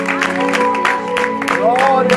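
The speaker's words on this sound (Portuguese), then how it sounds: "Pode aplaudir ao Senhor Jesus," A church congregation at an evangelistic service claps for Jesus, bursts of hand claps mixing with a loud voice calling out and sustained musical tones underneath.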